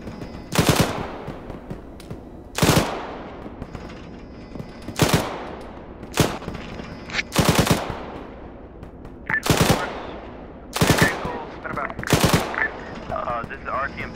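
Gunfire rings out in the Arma 3 video game, loud sharp bursts repeating at steady intervals, each crack trailing into a short echo, close and dominant with quieter rumble between the shots.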